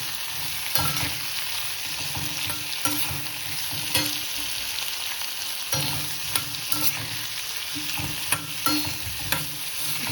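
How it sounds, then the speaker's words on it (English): Capsicum and gram flour fry on a medium flame with a continuous bright sizzle, broken by regular stirring scrapes and light taps of a spoon against the pan. "Just let it fry on a medium flame."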